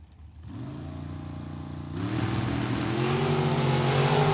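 A drag racing dragster at Tucson Dragway roars at the line and then launches, its loud engine note holding a steady drone before stepping up and climbing in pitch as it accelerates away, with no talk over it.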